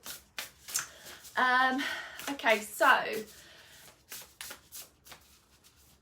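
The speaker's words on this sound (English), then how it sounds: "a beautiful card, Believe in Your Own Magic, which I will just shuffle as I'm speaking to you" Cards are shuffled in quick riffling bursts, close and crisp, between stretches of someone speaking softly.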